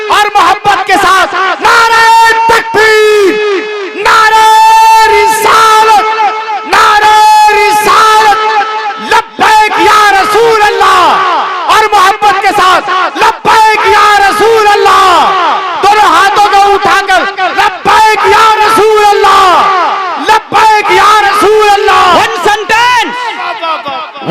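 A large crowd at a religious gathering shouting rhythmic takbir responses in unison, loud, repeated chanting bursts with brief gaps, sounding close and powerful.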